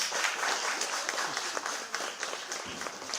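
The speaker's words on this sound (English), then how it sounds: "please give them a big applause" Seminar audience clapping for a technical team, fairly quiet and a little uneven, with scattered sharper claps standing out across a few seconds.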